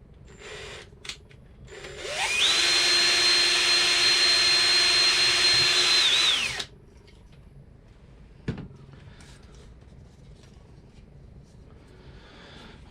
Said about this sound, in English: Okay, let's go drill the hole.